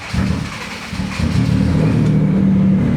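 A Mazda RX-7 FD, just repaired with an injector fix, cranks and fires up, its engine building into a steady, loud running drone that holds close and continuous.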